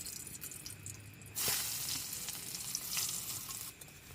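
Onion, chili, ginger and garlic sizzle in hot oil for lentil dal over a wood fire, a steady close frying hiss with a sharp burst as ingredients drop in, then continued crackling.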